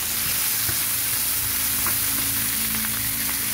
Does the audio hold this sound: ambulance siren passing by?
no